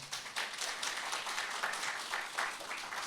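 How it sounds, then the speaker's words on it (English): Audience applause at a security policy forum in Jeju, honoring a supporter; fairly faint, steady clapping from a distant crowd, with no talk over it. "Let us give one more applause to her."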